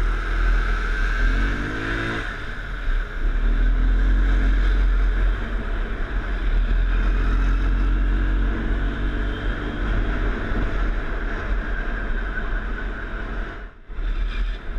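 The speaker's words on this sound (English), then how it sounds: "The sounds of scooters and cars echo off the buildings." Engines of cars and scooters drone and rev along a Taipei city street, one passing machine rising in pitch early on, with a steady traffic hum echoing off the buildings throughout.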